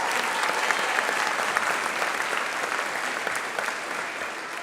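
Audience applause for a middle school jazz band at a festival of bands, a dense, steady clapping that fills the whole stretch at full strength and eases only slightly toward the end.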